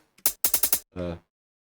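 Snare drum samples in a beat play as several sharp, bright hits in a quick run, followed by a short tonal hit, all close and alone.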